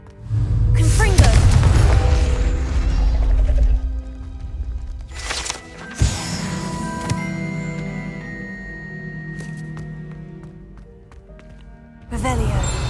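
A Confringo blasting spell goes off in Hogwarts Legacy as a loud, booming burst, followed by a sharp blast near six seconds and another heavy hit at the end, over game music and rumbling.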